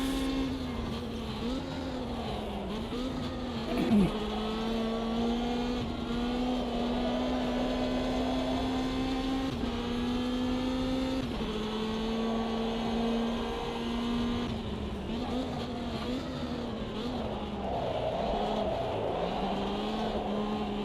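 Pro-class racing cars drone along in a multi-class racing video game, their engine notes holding steady, then dipping and climbing again through shifts and corners, loud and continuous without talk.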